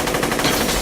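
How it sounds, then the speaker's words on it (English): Dense, continuous automatic gunfire from a shootout scene in the film The Matrix, a loud rapid rattle of overlapping shots filling the whole moment with no voices. "we finally have some gunfire"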